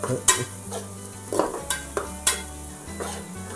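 Onions stirred and fried in a steel pan for pav bhaji, a spatula scraping in several distinct strokes over a steady close sizzle.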